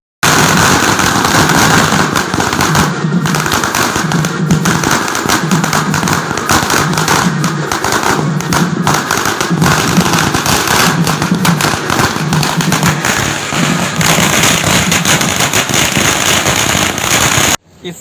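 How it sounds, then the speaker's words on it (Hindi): Fireworks burst and crackle continuously at a wedding celebration, a dense, loud barrage of firecracker pops with rhythmic thumps running throughout, cutting off abruptly at the end. "लोगों को बाकायदा बैंड बाजा और आतिशबाजी करते देखा गया"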